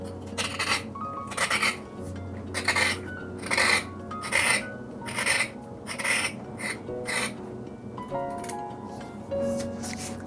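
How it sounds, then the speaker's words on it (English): Knife blade scraping the outer skin off a carrot, a series of short rasping strokes repeated in an uneven rhythm, close and fairly soft. "And scrape the outer part of the carrot off."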